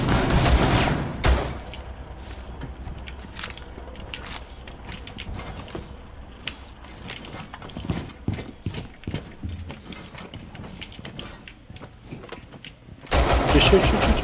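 Gunfire in the Rainbow Six Siege video game, rapid bursts of clattering shots and mechanical clicks through the middle, framed by louder noisy passages at start and end with voices talking.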